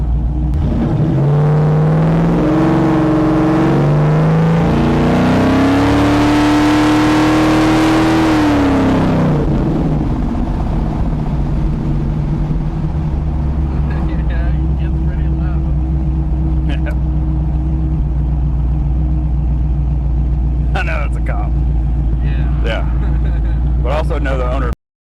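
A 1981 Pontiac Trans Am with a 408 LS swap revs hard while driving, its pitch climbing and falling through loud, rumbling pulls before easing to a steady cruise. Other noises come through faintly near the end.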